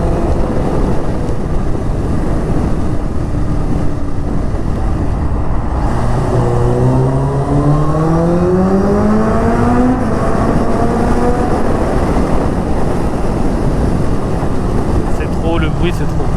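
A Kawasaki Ninja H2 motorcycle engine revs hard, its pitch climbing in a series of rising sweeps through the gears. Steady wind roar buffets the microphone throughout.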